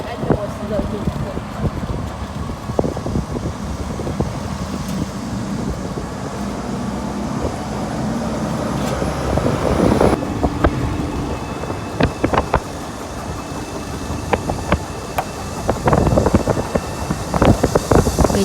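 Steady wind buffeting while riding in the open back of a pedicab on a rural road trip, a broad rushing roar with gusty bursts and engine rumble underneath.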